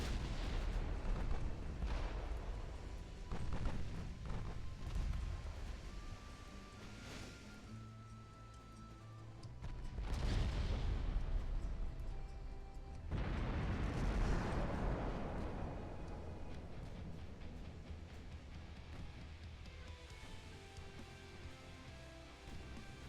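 Naval guns fire explosive shells in the video game Ultimate Admiral Dreadnoughts. The booming blasts come with rumbling explosions and a roar like surf, loud near the middle and then fading.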